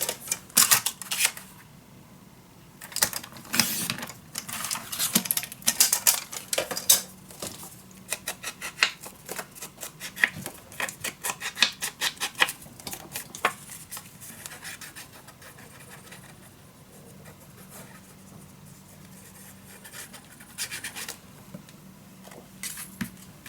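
Paper is trimmed down for a steampunk Christmas mini album, with a long stretch of close scratchy cutting and rustling in irregular clusters of crisp strokes and no talk.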